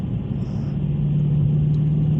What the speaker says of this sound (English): this is my 2021 Dodge Challenger Scat Pack